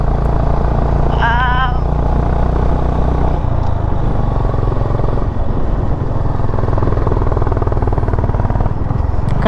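Honda Highness motorcycle riding along a road in Munnar, its engine droning steadily and loud throughout with wind rush, a brief whine early on.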